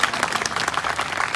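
Audience applause at a children's gathering, a steady, close burst of many hands clapping with no gaps.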